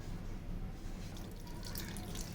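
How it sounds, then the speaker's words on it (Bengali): Tap water runs softly and steadily while eggs are washed under it, a quiet continuous trickle with light splashes and drips close by. "আমি আম্মুকে হেল্প করে ডিম ধুয়ে দিচ্ছি।"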